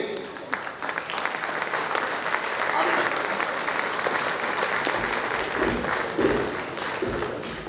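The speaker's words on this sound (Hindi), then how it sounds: "मैं चाहता हूं इन दोनों के लिए जितनी तालियां यहां बजें" Sustained applause from an audience at a Hindi poetry recital, steady and dense, with a voice speaking over the clapping.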